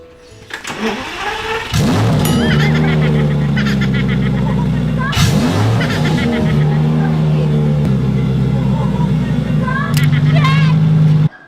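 A car engine catches and roars at about two seconds, then holds a loud, steady revving drone with surges in pitch. Excited voices talk and shout over it almost throughout.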